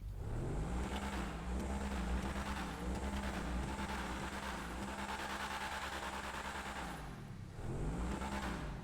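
A Truffade Adder supercar engine in GTA Online revs hard and steadily, a loud sustained roar with rising and falling pitch sweeps, briefly dipping near the end before climbing again.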